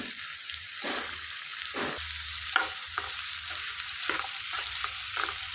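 Ridge gourd pieces are stirred into a tomato curry in a pan: repeated scraping strokes of a spoon, roughly one per second, over a low continuous sizzle.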